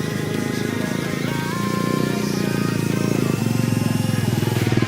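Motorcycle with bullet tyres on an off-road dirt shortcut near Kaamli Dam, a steady, loud engine drone held throughout at close range, with music faintly underneath.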